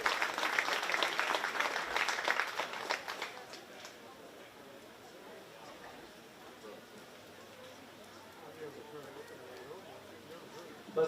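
Applause for young 4-H swine exhibitors at a county fair livestock show breaks out loudly for a few seconds, then fades to scattered clapping under an announcer talking over a PA.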